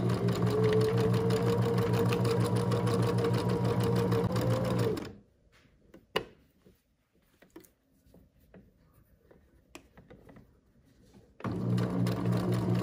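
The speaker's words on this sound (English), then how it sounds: "As you're sewing, make sure that you pay attention to the fabric and keep sewing." Sewing machine stitching an overcast finishing stitch along fabric edges, a fast steady whirring run of about five seconds, a pause with faint handling sounds, then the motor starts again, close and loud.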